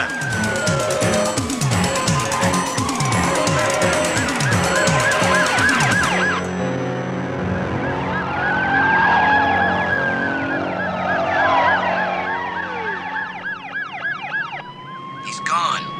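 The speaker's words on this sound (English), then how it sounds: "Got the sirens." Police sirens from a chase scene in the TV series The Fall Guy wail with rising and falling tones over rumbling vehicle noise, sustained and fairly loud across the whole stretch.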